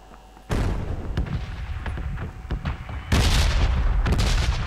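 A grenade goes off in PUBG with a loud sudden boom, followed by rumbling gunfire and a second heavy blast burst near the end, close and forceful.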